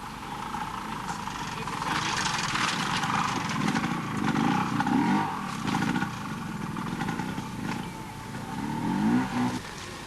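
A Honda ProLink trial motorcycle picks its way over rocks at a 1986 world trial event, its engine a low, uneven putter with small blips of throttle, moderately distant and steady throughout.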